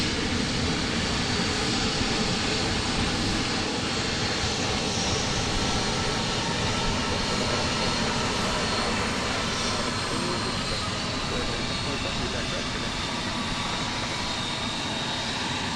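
An Alaska Airlines jet in special retro livery at Portland International Airport produces a steady, dense engine roar, constant and fairly loud from start to finish, with no voices over it.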